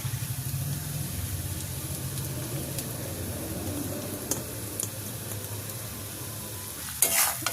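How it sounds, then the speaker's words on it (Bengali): Mashed potato filling for dosa is stirred in a pan with a soft sizzle and quiet scraping strokes, low and steady, ending in a brief sharper clatter, with no talk. "আলুটা সুন্দর করে মিক্স করে রেখেছি সেটা হচ্ছে আমি এখানে দিয়ে দেব"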